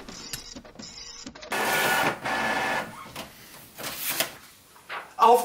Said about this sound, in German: gerade ein Sound aus meinem Drucker